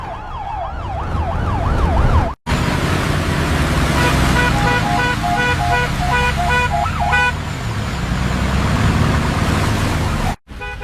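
Several vehicles move in convoy with sirens wailing, a rising-and-falling siren and a rapid two-tone one sounding together over road noise and horn toots, loud and continuous, with brief cuts.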